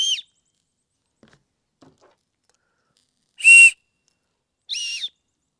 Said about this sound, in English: The sheath is also a whistle.